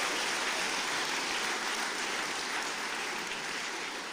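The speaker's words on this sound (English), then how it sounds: "Round of applause for Jags for Good." Sustained, dense applause from a large crowd at a political launch rally in Glasgow, a steady rain-like wash of clapping that holds at an even level from start to finish.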